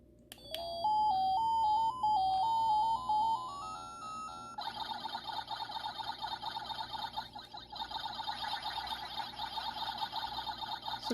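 A Tiny Arcade handheld plays the Ms. Pac-Man startup screen: a rising run of electronic chiptune notes, then a busy, warbling siren-like game melody, small and tinny, heard alone without talk.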